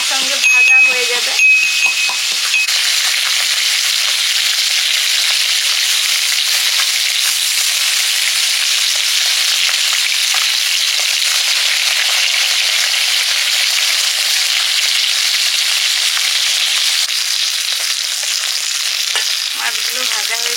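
Shol fish (snakehead) frying together in hot oil in a wok, a loud continuous sizzle with stirring clinks near the start and end.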